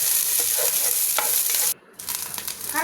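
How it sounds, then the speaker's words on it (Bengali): Ginger, garlic and green chili frying in hot oil in a pan, a loud continuous sizzle with stirring scrapes, cut off by a short gap before resuming. "এখানে আদা রসুন কাঁচামরিচ সব দিয়ে দিলাম"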